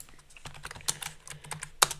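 Computer keyboard keys are pressed for a copy and paste, giving a quick run of close, crisp clicks and taps in an uneven rhythm, with no talking over them.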